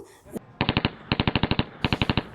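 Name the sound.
gunfire in a VR gun shooting arcade game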